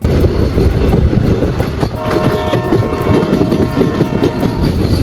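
A passenger train bound for Guwahati runs along the rails with a loud, steady rumble and continuous wheel clatter, heard close and alone without talk.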